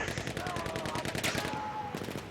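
Rapid auto-loading rifle fire in Battlefield 1, a quick run of sharp evenly spaced shots lasting about two seconds, close and loud, with a commentator's voice faintly under it.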